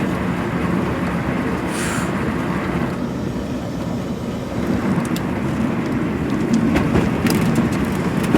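A velomobile rolling over rough, loose gravel makes a loud, continuous rumbling crunch that rises slightly toward the end, with sharper rattles scattered throughout and no speech.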